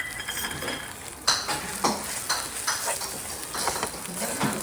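Masala spice mix sautéed in a pan for samosa filling, with a soft steady sizzle under scraping stirs of a spoon and a few sharper clinks, close and moderately loud, without talking.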